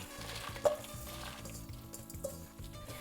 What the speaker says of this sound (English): Turn the heat to low and let's toast the peppers.